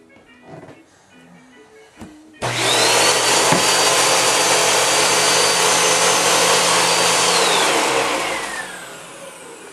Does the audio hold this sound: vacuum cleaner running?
yes